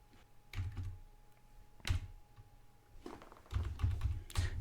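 Keystrokes on a computer keyboard while entering commands in a Linux disk partitioning tool, with bursts of several quick taps separated by short pauses, close and fairly quiet.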